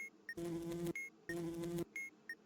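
A honeybee buzzing in the Keep Talking and Nobody Explodes bomb-defusal video game comes in two steady, close buzzing bursts, separated and framed by short electronic beeps.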